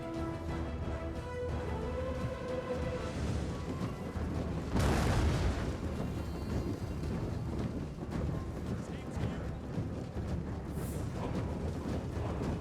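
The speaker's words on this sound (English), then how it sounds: "So they're just taking hits from this Hunnic artillery." Hunnic artillery in Total War: Attila pounds away with booming impacts, one heavy blast standing out midway, over a dense rumbling battle din, while someone speaks over the action.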